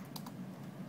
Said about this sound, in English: Press enter on your keyboard